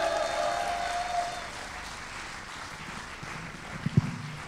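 A church congregation applauds itself during a worship service, a soft sustained patter of clapping that fades gradually, with a few louder claps near the end.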